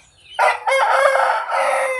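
A Pata breed fighting rooster crows loudly and close by, one long drawn-out call lasting most of the two seconds, with no talk over it.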